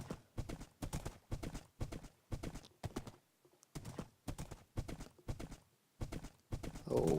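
Rhythmic clip-clop of galloping horse hooves in a horse racing video game, steady repeated bursts close and loud, with a brief whinny-like rise near the end.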